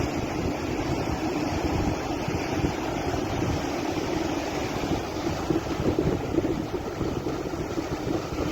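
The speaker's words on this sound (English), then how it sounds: "Sometimes all you need to do is just listen to the waves coming in" Ocean waves roll in at Puerto Plata, Dominican Republic, a steady broad wash of surf with wind noise and no distinct break, constant throughout.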